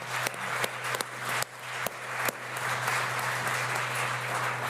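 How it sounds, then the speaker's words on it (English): Applause from a conference audience, a dense and steady wash of clapping with a few sharper nearby claps standing out, heard alone without speech. "Another big round of applause for our young people."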